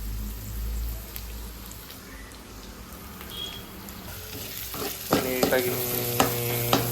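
Onions with salt fry in a pan for onion rice, a soft steady sizzle with stirring scrapes and a few clinks of a spoon against the pan; someone speaks briefly.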